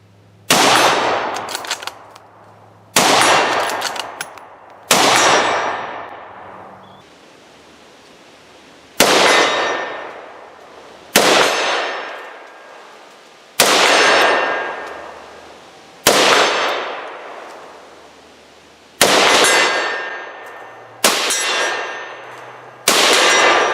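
Rifle rounds strike a CTSTargets ABC Zone steel target on its stand outdoors, about ten sharp metallic clangs at irregular intervals, each loud and ringing out in a long, fading tail.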